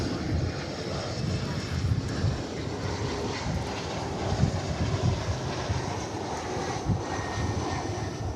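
A jet airliner rumbles past at DFW Airport, a broad, steady engine roar at moderate distance that swells and fades slightly, with people talking faintly in the background.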